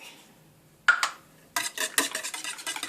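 Egg whites being whisked with coconut flour, baking powder and salt in a bowl: quiet at first, then two quick scraping bursts and a steady run of brisk, rhythmic whisk strokes against the bowl, close and fairly loud.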